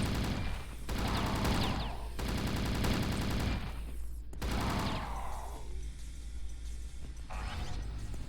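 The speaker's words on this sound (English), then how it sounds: "let's sink our bullets into these guys" Gunfire in the video game Chasm: The Rift: loud, sustained rapid automatic shooting in long bursts, broken by short pauses and a whooshing sweep.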